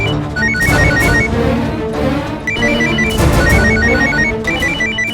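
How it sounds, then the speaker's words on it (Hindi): A telephone ringtone plays a repeating melodic pattern in bursts, loud and close, over a thick musical backdrop in a TV drama scene. "फोन उठा लो, हो सकता है दामाद जी का फोन हो"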